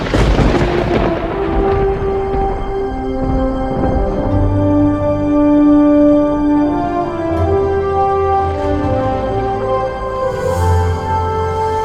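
Storm with thunder in a film trailer: deep rolling booms and rumbles layered under swelling sustained music tones, moderately loud and continuous with no voices.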